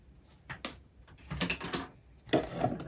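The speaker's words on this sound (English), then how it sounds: "I just tend to take my scissors and just clip on through nice and quick" Scissors snip through quilting fabric during patchwork block sewing, a few crisp separate cuts in short bursts, close and fairly quiet with no talk.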